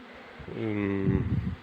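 Honey bees hum close by in a spring apiary surrounded by rapeseed fields, a steady tonal buzz that swells and lingers for about a second, with a voice underneath.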